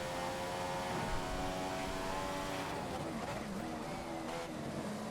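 A Formula 1 car engine from an F1 video game at the Canada circuit, a steady high-pitched whine held at constant revs through a lap, loud and continuous, with a faint shift in pitch partway through.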